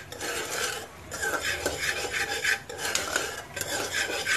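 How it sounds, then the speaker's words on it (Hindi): Act II popcorn kernels stirred inside a pressure cooker over a medium flame, a quiet repeated scraping and rasping of a spoon against the metal pan with short pauses between strokes. "इसे कंटिन्यूसली जो है चलाते रहना है जब तक जो है ये पॉपकॉर्न फूटेंगे नहीं"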